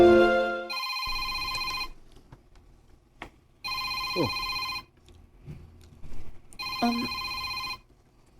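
A mobile phone ringtone rings in repeated bursts, a bright electronic melody sounding about three times with short gaps, while someone talks softly between the rings.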